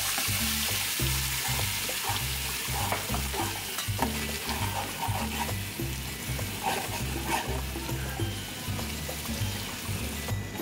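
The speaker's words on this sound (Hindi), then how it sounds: "इसमें डाल दिया जीरा, ये राई, हींग, और अब ये प्याज और हरी मिर्च कटी वो अच्छे से डाल दी और इनको मिक्स कर दिया।" Chopped onions and green chillies frying in hot oil with cumin, mustard seeds and asafoetida for a Rajasthani kadhi, a continuous close sizzle with steady stirring and scraping, alone without voices.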